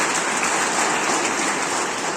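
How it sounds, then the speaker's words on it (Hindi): Guests at a twin brothers' wedding clap loudly together for God, a dense, even burst of applause from a crowd that continues without pause. "ईश्वर के लिए एक जोरदार ताली हम लोग सब बजाएं"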